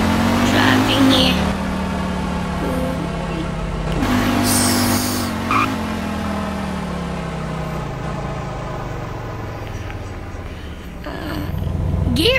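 A car driven in a Roblox GTA 5 game, its engine droning loud and steady with shifting pitch and a couple of brief surges, close and harsh throughout, with no talk over it.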